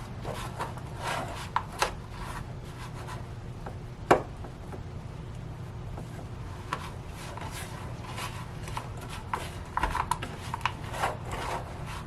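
Betty Crocker chocolate chip cookie batter mixed with water makes soft, continuous scraping and stirring sounds, with occasional louder clicks of the utensil against the bowl, faint and close.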